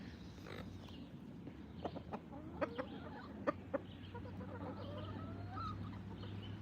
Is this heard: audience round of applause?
no